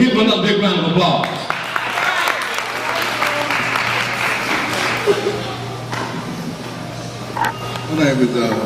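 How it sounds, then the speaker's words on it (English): Audience applause at a church youth rally, steady sustained clapping from a crowd filling the room for several seconds, with scattered voices and a faint hum underneath. "Brother Drue, give him another big round of applause."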